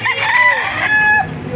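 A rooster crows loudly and close at a Baliuag, Bulacan chicken market, one long drawn-out call with a second crow following, over steady market bustle.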